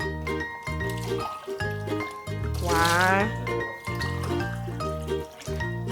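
Water pours into a measuring cup while cooking Ewedu soup, a short filling gurgle that rises in pitch, close by, amid a woman counting aloud and rhythmic background music.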